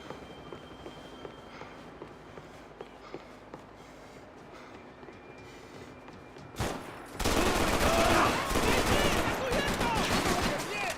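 Gunfire in Max Payne 3: quiet, scattered footsteps and faint shots, then a sudden loud burst and a dense, sustained barrage of rapid shooting.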